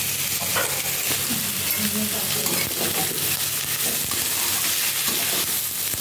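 Steady, dense sizzling of potatoes frying in a little hot oil in a kadai, with occasional stirring and scraping sounds throughout.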